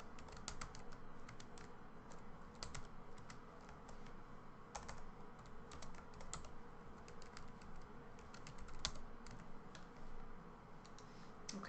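Steady typing on a computer keyboard in an office while site report details are filled in, with rapid light clicks running continuously over a low background hum.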